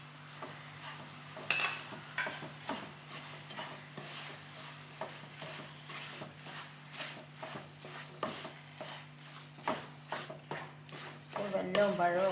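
A spoon stirs ripe bananas with jaggery in a pan, giving repeated soft scraping strokes in a steady rhythm over a faint sizzle, close and fairly quiet, with a brief clatter near the end.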